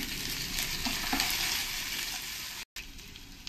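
Chopped onions with ginger, garlic and green chilli paste frying in a pan for paneer masala, a loud close sizzle with light stirring, cut by a brief silent gap near the end.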